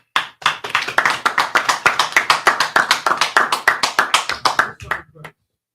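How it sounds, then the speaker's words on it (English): A group of people clapping in a fast, steady rhythm for about five seconds, sharp and close, ending abruptly. "Clap it up."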